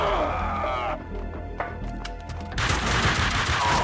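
Gunfire from the Max Payne 2 video game, set in a hospital with a security guard: sharp gunshot bursts and a loud blast of noise near the end, mixed with game music and effects, no live talking.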